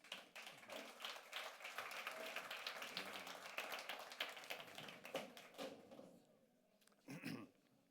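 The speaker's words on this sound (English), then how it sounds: "Please welcome them with a round of applause." Sparse, uneven clapping from a small audience welcomes panel speakers at a Latin America Day event. It thins out and stops after about six seconds, then a brief burst of another sound follows.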